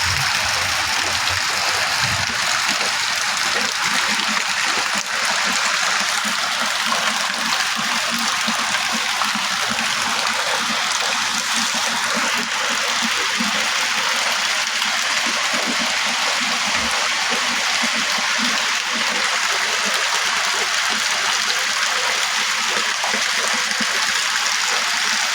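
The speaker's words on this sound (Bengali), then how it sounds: "প্রচুর বৃষ্টি হচ্ছে" Heavy rain with flowing floodwater outdoors, a constant broadband rush of falling rain and running water at a steady loud level throughout, with no clear voices.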